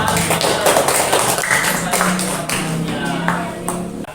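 A class of students claps hands together in a schoolroom, a busy run of overlapping sharp claps from several people, close and fairly loud, with some faint voices mixed in.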